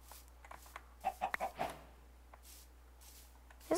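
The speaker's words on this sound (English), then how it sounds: "There's a lot of chickens around here." Chickens in the video game Minecraft cluck in a few short, fairly faint bursts over near silence, with a louder cluck at the very end and no talking.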